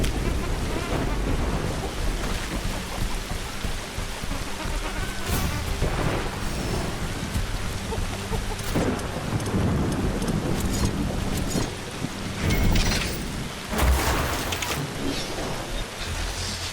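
A thunderstorm in The Riftbreaker video game: steady heavy rain hisses throughout, with rumbling thunder swelling and cracking in the middle, dense and loud with no voices.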